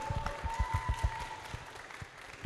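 Scattered audience clapping at a live health and career talk, a few distinct claps at a time, fairly faint and uneven, thinning out after about a second and a half.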